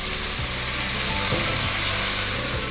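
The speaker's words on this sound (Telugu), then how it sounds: "బ్రకోలీ ముక్కలు ఇవన్నీ కూడా చక్కగా మగ్గి ఒకే విధంగా మనకి ఫ్రై అవుతూ ఉంటాయి." Broccoli, tomato and potato pieces fry in a pan with a loud, continuous sizzle close up, broken by a few soft scrapes and knocks.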